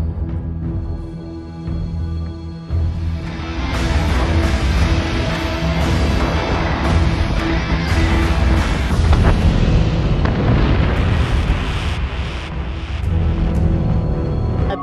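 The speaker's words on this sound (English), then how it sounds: "Missiles on their way." Missile blasts from the space-combat game Battlestar Galactica Deadlock rumble in a loud, continuous roar that swells after a brief dip and holds heavy, dense booming throughout with no talk.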